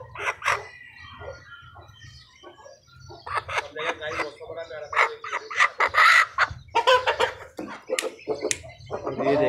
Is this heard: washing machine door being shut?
no